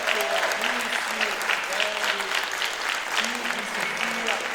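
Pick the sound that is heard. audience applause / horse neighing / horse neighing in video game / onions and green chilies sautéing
audience applause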